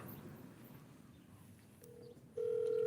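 A telephone call placed during a live stream: a few soft dial tones, then a steady, loud ringback-style tone sets in and holds near the end, over a quiet room background with no speech.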